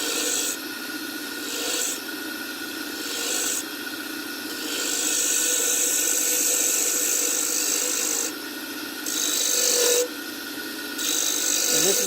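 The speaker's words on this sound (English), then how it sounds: "when I start actually using the sandpaper to smooth it out" Sandpaper rasps steadily against a spinning wooden pen blank on a lathe, a continuous hiss running over the motor's hum and rising and easing in pressure every few seconds as the paper is moved along.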